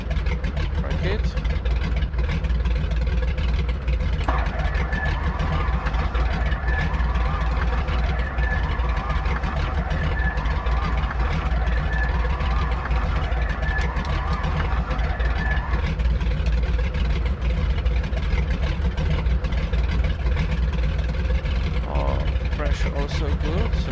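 The second engine of a twin-engine aircraft starts in a flight simulator and settles into a steady idling drone, with a thin tonal whine riding on top for several seconds while people talk over it.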